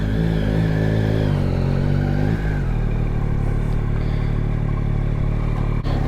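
A 2023 Yamaha MT-09 SP motorcycle idling loudly up close, its engine note shifting as it is moved out into the sun, a steady rumble with a brief clunk near the end.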